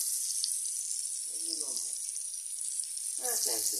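Salmon fillets fry in a pan with a steady, bright hiss of sizzling oil that runs the whole time. A person's voice comes in briefly under the sizzle.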